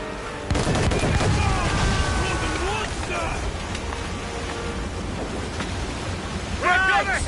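Ship mortars and cannons fire in a naval battle in Assassin's Creed Rogue Remastered, a steady loud barrage of booms over sea and wind noise, with crew voices shouting through it.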